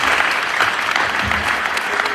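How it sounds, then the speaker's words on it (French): Steady applause from a church gathering at a pastor's installation service, a continuous wash of many hands clapping at even loudness, with faint crowd murmur beneath. "Sous vos applaudissements,"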